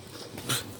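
A dog gives a short, soft whimper with breathy snorts, close and faint, lasting under a second.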